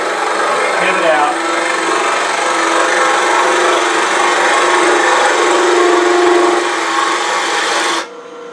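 A power tool grinds steadily into a wooden clamshell box while hollowing out its interior, a loud, continuous rasping whir that stops abruptly near the end.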